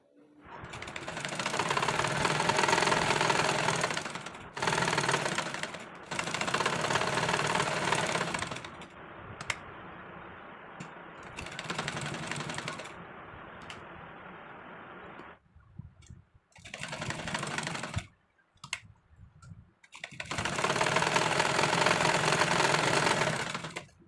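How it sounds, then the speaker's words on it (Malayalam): A sewing machine runs in long loud bursts while top-stitching around the collar of a coat-collar dress, with short pauses and quieter mechanical clicking between runs and no talk. "ഇനി നമുക്കിത് ചുറ്റും ഒന്ന് പതിച്ച് സ്റ്റിച്ച് ചെയ്ത് കൊടുക്കാം."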